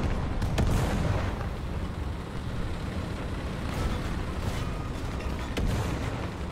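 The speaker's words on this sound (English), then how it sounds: "Artillery coming in on me." Incoming artillery in a tank video game rumbles as a dense, continuous low roar, with a few heavier thuds breaking through the din.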